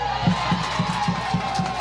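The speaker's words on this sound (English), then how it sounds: "And that gets the Stewarts Creek crowd involved here." A crowd at a Stewarts Creek vs. Dobyns Bennett high school championship game cheers a strike call in rhythmic, pulsing bursts, steady and moderately loud from the stands.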